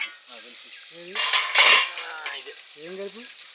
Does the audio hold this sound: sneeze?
no